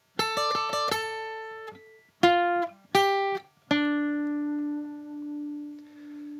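An electric guitar plays the first lead line of a theme: quick picked notes, then two short separated phrases, ending on a long sustained note that rings out and fades, clean and unaccompanied.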